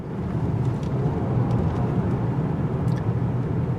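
A 2019 GMC Acadia AWD SLT cruising in sport all-wheel-drive mode, a steady low road and engine rumble inside the cabin with no voices, even and continuous throughout.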